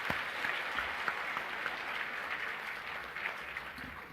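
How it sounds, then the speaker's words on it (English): Sustained audience applause at a business convention of the Federation of Filipino-Chinese Chambers, honoring sponsors; a steady, moderately distant wash of many hands clapping that continues evenly throughout. "let us give them a warm round of applause to show our appreciation."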